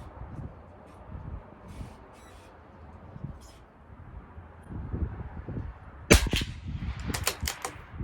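A CZ457 LRP rimfire rifle firing CCI Blazer ammunition at an outdoor 50-yard range: a loud sharp shot about two-thirds through, followed by several quick sharp cracks, over a quiet background with faint earlier pops.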